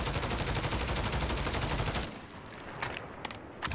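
A Grau rifle in Modern Warfare fires a rapid automatic burst for about two seconds, loud and close, followed by a few scattered single shots and quieter game ambience.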